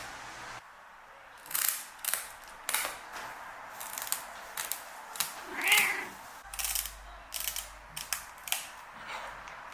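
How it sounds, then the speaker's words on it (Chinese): Kitchen scissors snip the fins off a cleaned fish in a series of crisp, close, irregular clicking cuts, with one brief squeaky sound partway through. "我们先用剪刀将鱼鳍给它剪掉"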